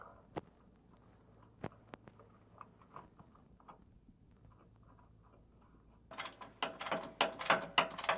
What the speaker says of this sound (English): So now that we have our nut installed on our upper bag mount bracket